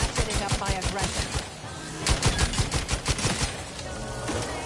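Rapid gunfire in the video game The Outer Worlds 2, fast bursts of sharp, punchy shots fired in quick rhythmic runs, loud and close, with brief pauses between volleys.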